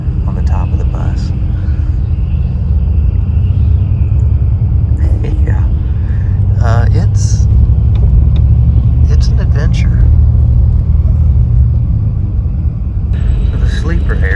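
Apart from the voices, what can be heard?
sleeper bus rumbling while driving in Vietnam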